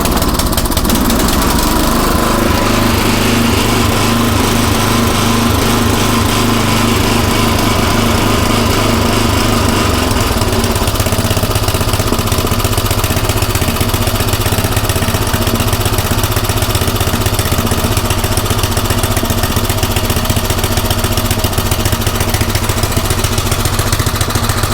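A Craftsman rototiller engine running on a new carburetor, a loud, close, steady small-engine drone that settles into an even idle-like rhythm for the whole stretch, with no voices.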